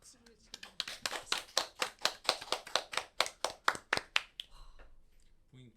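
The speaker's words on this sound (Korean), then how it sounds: "박수를 치고." A pair of hands clapping close by in a quick, regular run of about a dozen sharp claps that fade out toward the end, with no other sound around them.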